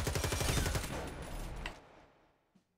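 Rapid gunfire from a gun in the video game Warface, loud and close bursts in a fast rhythm that slow and fade into a short tail before a brief silence.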